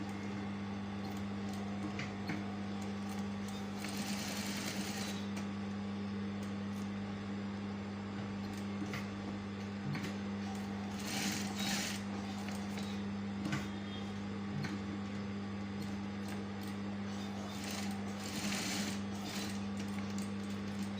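Sewing machine running steadily while stitching a patched pocket design, a continuous mechanical hum with a faint ticking rhythm, close and even throughout with no talking.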